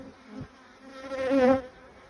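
Honeybees from a colony buzz around the hive, a close droning hum that swells loudly as a bee passes near and then fades, with another brief buzz early on.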